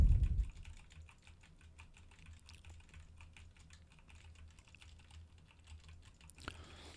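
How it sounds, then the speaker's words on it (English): Computer keyboard keys are pressed in a steady run of soft clicks, with a mouse click mixed in, close and quiet, picked up by a budget dynamic microphone. "Now pressing on the WSD key, spacebar, R key, clicking that mouse"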